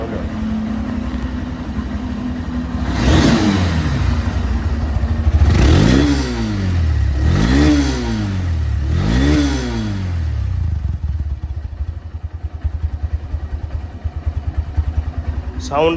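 A Honda CB Hornet motorcycle engine idles, then revs up sharply three or four times in quick bursts, each rise and fall distinct, before settling back to a rough idle.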